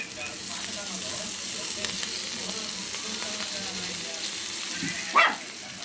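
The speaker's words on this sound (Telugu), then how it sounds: "ఇప్పుడు కరివేపాకు వేసాను, అది కూడా వేపుతా బాగా." Curry leaves fry in a pan alongside fish. A faint, even sizzle runs throughout, and a brief sharper burst of sound comes near the end.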